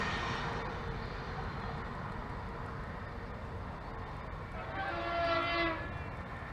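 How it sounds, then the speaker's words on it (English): A train horn hoots for a foot crossing on the Northampton loop near Bletchley, a single sustained blast rising over steady rail rumble and wind noise late in the clip. "That hoot there is for a foot crossing, which is where the train is now."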